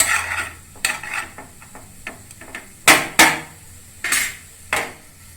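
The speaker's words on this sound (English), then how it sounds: "Mixing it properly." Pasta tossed with vegetables, paneer and masala in a pan: sharp, close utensil clanks and scrapes come in irregular bursts with quiet gaps between, and nobody talks.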